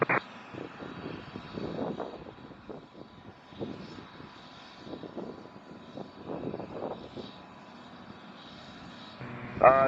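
A Gulfstream G500 business jet takes off from runway 3 at Scottsdale airport, a broad engine roar swelling and fading at a distance, with a brief radio burst near the end.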